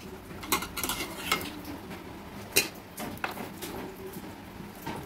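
Split chickpeas (chana dal) are gathered and tipped into a pot in a home kitchen: close, fairly quiet scattered rattles and clinks of grains and utensil against metal, with a few sharper knocks and no talking.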